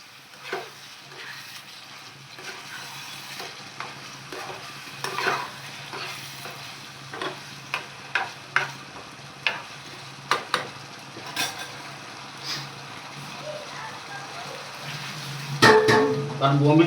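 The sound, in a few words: stirring Bombay duck masala frying in a pan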